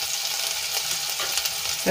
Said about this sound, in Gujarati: મિક્સ કરીને આપણે અડધી મિનિટ માટે સાંતળી લઈશું